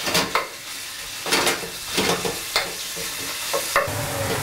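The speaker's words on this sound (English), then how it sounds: "I have big wok. Okay, and then ground pork." Ground pork stir-frying in a big wok for Sichuan-style ma po tofu, a constant sizzle broken by repeated scraping strokes of the spatula against the metal, close and fairly loud, with no voices.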